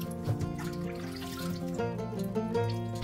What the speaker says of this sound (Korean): 잠길 만큼 물을 받아 헹구어 물기 빼주세요